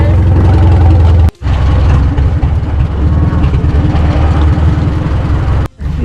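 Tractor engine running on a farm, a loud, low, close rumble that persists throughout with two brief cutouts, and some voices in the background.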